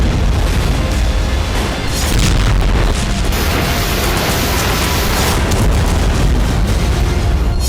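A continuous loud, rumbling blast roar fills the entire stretch, dense and booming with rolling low-end energy and no pauses, with no voices.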